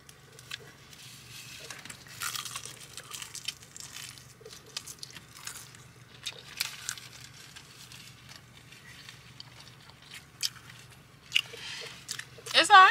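Crunchy gas station fried chicken being bitten and chewed close to the mic, with crisp crackling bites and wet chewing that come in irregular bursts, and quieter stretches between them.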